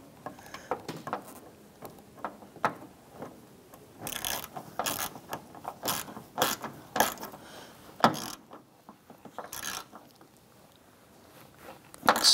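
A socket ratchet tightens the last bolt under the fender of a 1993-1997 Ford Ranger, close by, with irregular bursts of quick clicking that stop and start, and a louder flurry near the end.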